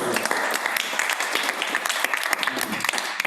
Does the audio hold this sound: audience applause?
yes